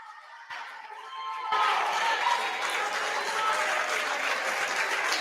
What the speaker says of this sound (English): He comes out to a round of applause for the Bulldog fans.